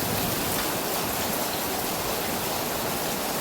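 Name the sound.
rain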